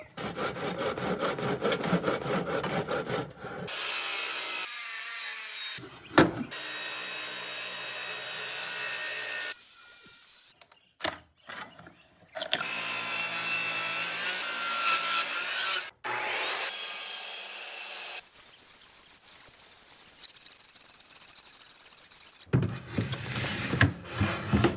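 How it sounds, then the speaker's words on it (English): A chisel pries a wooden piece loose in a woodworking shop, making repeated close scraping and rubbing wood sounds in bursts separated by brief quiet gaps. "If I can get it started and get a chisel in there to pop it out."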